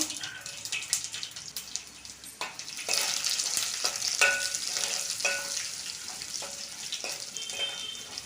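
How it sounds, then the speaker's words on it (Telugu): Mustard seeds and tempering spices crackle and sizzle in a pan while being stirred, with scattered pops over a moderate, continuous frying hiss. "ఈ పోపు అయితే చక్కగా ఎర్రగా వేగిందండి"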